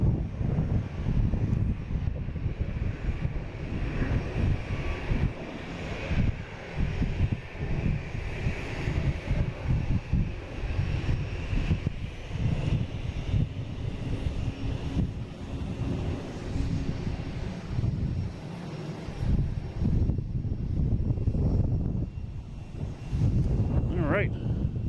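Fully loaded airliners take off from a runway at a busy airport, a distant, steady jet roar mixed with wind rumble, while people talk nearby throughout.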